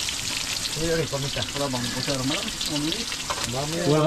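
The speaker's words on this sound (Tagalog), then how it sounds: "Ginigisa na po." Snails sautéing in a pan at an outdoor farm cookout, giving off a steady, close sizzle and stirring sounds beneath people chatting and singing.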